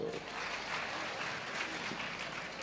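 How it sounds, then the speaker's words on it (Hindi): A gathering claps on cue, a quiet, steady patter of applause at low level with a faint voice or two underneath. "बहुएं ताली तो बजा दो"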